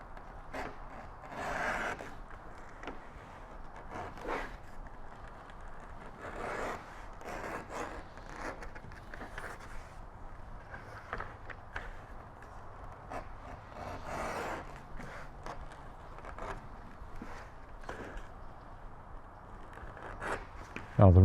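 A tool bevels the edges of a custom leather shoulder holster, making quiet, close rasping strokes that repeat at an uneven pace.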